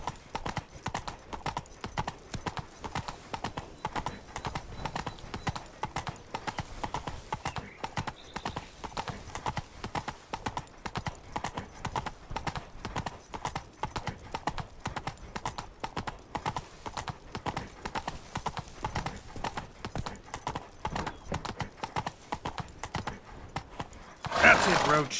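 Roach, a horse in the video game Witcher 3, gallops with steady, rapid clip-clopping hooves that keep going for the whole stretch, ending in a louder burst near the end; game speech is mixed in underneath.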